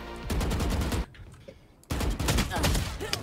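Rapid bursts of gunfire in a tactical shooter match, loud and dense, cutting out briefly mid-clip before resuming with continued shots.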